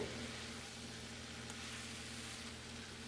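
Paneer frying in masala in a pan gives a steady, soft sizzle that continues evenly throughout, fairly faint and with no voices.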